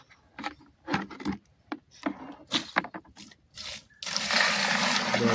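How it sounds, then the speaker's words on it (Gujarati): Hot water is poured into a container of dissolved lime; a steady, close, broadband pour runs through the last second or so, after a series of short splashing and knocking sounds. "હવે મોરકુત્તીની અંદર આપણે ગરમ પાણી નાખીએ"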